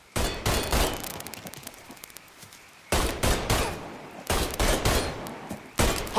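Gunfire in Mafia III, heard as several loud bursts of rapid automatic shots with sharp onsets, separated by brief quiet pauses and followed by echoing tails.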